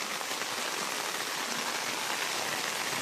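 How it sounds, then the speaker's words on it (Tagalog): Heavy rain pours down steadily in a dense, continuous roar of drops hitting surfaces, loud and unbroken throughout with no voices. "Super lakas itong ulan guys sa pamilya."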